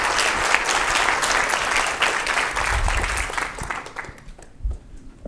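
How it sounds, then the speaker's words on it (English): Dense audience applause for a speaker at a science conference session fills the room, holding steady for about four seconds before thinning out into scattered claps. "Let's give one more round of applause."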